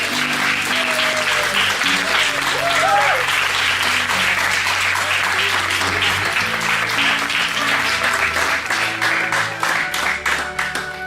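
Audience applause after a musical theatre workshop performance at a municipal theatre school in Vigo, a dense, steady roar of many hands clapping that carries on throughout, with voices murmuring underneath.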